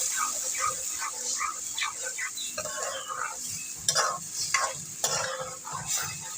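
Golden fried onions in a pot with tomato paste for chicken tikka biryani, stirred with a spoon, giving a steady sizzle and scraping clinks, close, with a voice and a dog barking faintly behind.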